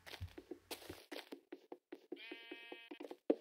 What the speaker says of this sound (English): I hear another sheep, so I need some more wool as well